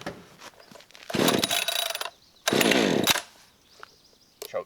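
A Husqvarna 550XP chainsaw cuts firewood outdoors near Boise. Two loud, roughly one-second cutting bursts rise from a quieter idling chatter, and the saw is heard up close.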